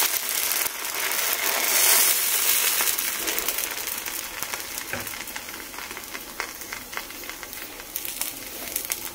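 Dosa batter sizzling on a hot iron tava, a continuous bright hissing crackle that is loudest at the start and settles into a steady, slightly softer sizzle with small pops throughout.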